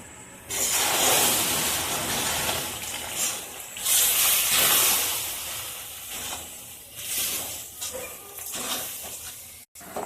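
Water poured into a warm, dry biscuit mixture of sugar, ground nuts and milk powder in a pan, giving a broad steady hiss and sizzle that swells and fades over several seconds with no talking.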